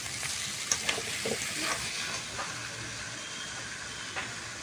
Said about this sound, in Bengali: এখন কিন্তু আমি গেরি আর আলু ভালো করে মশলার সাথে কষিয়ে নিয়েছি।